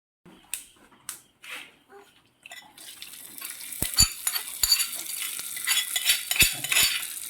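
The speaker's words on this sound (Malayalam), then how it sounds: "നമ്മൾ കടുക് വറുക്കാനുള്ളത് നമ്മുടെ ഉള്ളിയും മുളകും ഒക്കെ മൂത്തിട്ടുണ്ട്" A tempering of mustard seeds, onion and chili sizzles steadily in a pan for Kerala apple pachadi, following a few scattered clinks, with sharp spoon scrapes and knocks against the pan over the frying.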